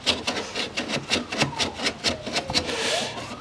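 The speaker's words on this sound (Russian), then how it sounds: "Теперь берем наждачкой, подчищаем вот этот шов, где у нас треснуло сзади." Sandpaper scrubs a cracked seam on the washer fluid reservoir of a 2006 Land Rover Discovery 3, making quick, close, rhythmic rasping strokes that repeat evenly over a few seconds.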